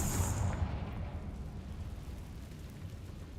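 A Confringo fire-spell explosion in the Hogwarts Legacy video game: one sharp blast at the start that fades into a low rumbling decay, moderately quiet, with no talking.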